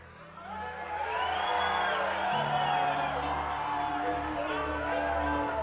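A church congregation at a baptism service shouts, whoops and cheers together in a loud, sustained crowd roar that swells after the first second and holds steady throughout.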